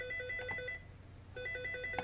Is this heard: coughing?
no